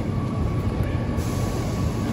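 A Moscow metro train rumbles steadily through an underground station, a loud, continuous low roar of wheels and carriages close by with no talking.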